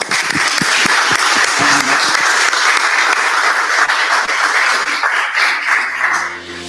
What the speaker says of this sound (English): give them a big round of applause as they leave the stage